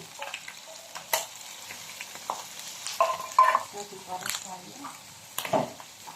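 Mushrooms sauté with beef in a hot pan for beef salpicao, giving a soft crackling sizzle with intermittent stirring scrapes and clatter, while a person speaks over it.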